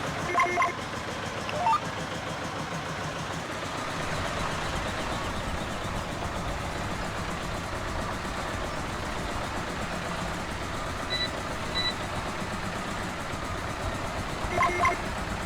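A tractor engine in the video game Farming Simulator 17 runs at a steady idle, a continuous mechanical drone lasting throughout with a few faint beeps from the game.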